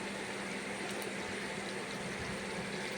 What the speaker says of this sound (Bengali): একটু জল দিলাম তরকারি রান্না করছি